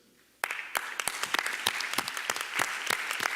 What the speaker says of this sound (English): Give all these young people a round of applause